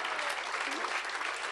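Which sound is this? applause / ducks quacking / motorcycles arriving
applause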